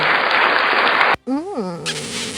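A V8 soundcard plays a canned crowd-applause effect, loud and dense for about a second, then cuts abruptly to silence before a laughing sound effect follows.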